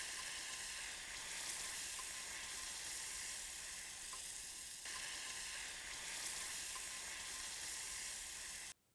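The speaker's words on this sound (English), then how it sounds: "We're going to saute that garlic in this oil and thyme for about 1 minute." Garlic sautéing with thyme in oil inside a Ninja Foodi pot gives a steady, even sizzle and crackle, close and continuous for the whole stretch before cutting off abruptly at the end.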